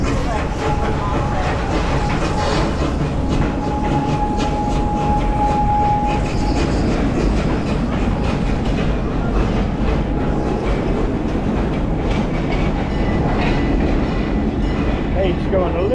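A train rolls steadily along tracks at a park, its continuous rumble and clickety-clack loud and close for the whole stretch, with voices faintly mixed in.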